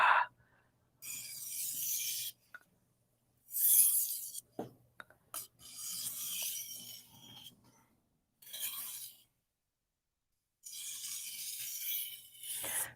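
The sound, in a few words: deburring a knife on a sharpening stone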